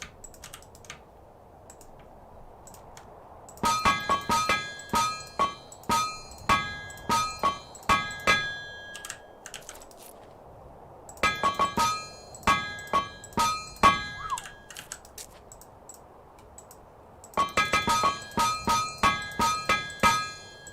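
Hammer blows on ingots in TerraFirmaCraft, in three separate bursts of rapid, evenly spaced metallic clinks over a steady low hum, with quiet pauses between the bursts.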